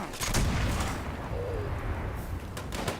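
Berserker explosive black powder rifle in Fallout 76, firing booming shots in a dense, reverberant game mix with several sharp reports and explosive rumbles overlapping.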